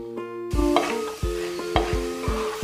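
Chopped ginger and garlic frying in a pan for Kerala-style pork fry, a close sizzle with rhythmic scraping stirs of a spatula, marked by a steady tonal hum underneath.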